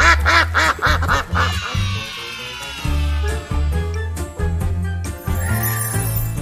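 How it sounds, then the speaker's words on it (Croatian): A cartoon duck in a children's animation quacks in a quick rhythmic series over bright, jingly background music. "Patka živi na jezeru."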